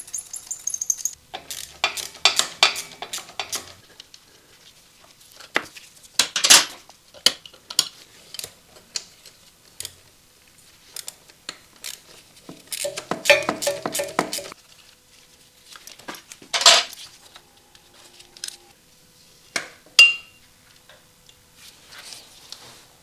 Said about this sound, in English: That's one of those battery screws that tinkles down into oblivion you never see again.